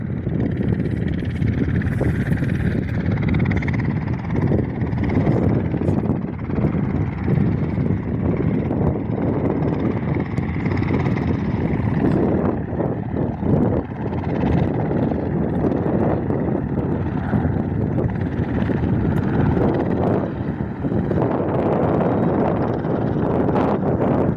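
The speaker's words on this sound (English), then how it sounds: "Cessna C-172 just about to do a touch and go" Cessna C-172 light aircraft doing a touch and go at a small airfield on a windy day: a continuous propeller engine drone heard alongside heavy wind buffeting on the microphone, steady throughout with no voices.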